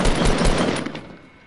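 Rapid machine gun fire from a squad shooter video game rattles loud and close in a continuous burst, tapering off at the end.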